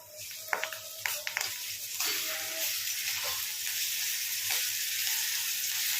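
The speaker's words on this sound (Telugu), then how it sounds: "ఈ పేస్ట్ని అయితే మంచిగా వేయించుకున్నాము" Ginger garlic paste and sliced onions fry in a pan with a steady hiss, a few sharp clinks of a spoon near the start, then an even sizzle throughout.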